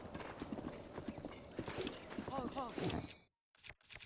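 Horse hooves clip-clop at a gallop in The Legend of Zelda: Breath of the Wild, a steady close rhythm with a brief neigh near the middle and game noise around it, cutting out abruptly near the end.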